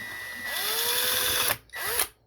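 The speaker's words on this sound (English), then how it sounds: "I'm just going to take this and go right in this corner and drill." A power drill bores through an interior wall to make a hole for a wire, whining loudly and steadily for about a second, then cutting out and briefly revving again.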